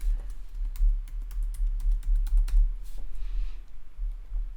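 Rapid, uneven keystrokes on a computer keyboard as a password is entered, a steady close-up patter of clicks over a low hum with no voices.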